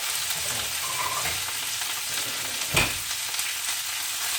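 Ground meat for chili with beans sears in a pan with a continuous sizzle, a metal spatula scraping and stirring through it, one sharper scrape near the end.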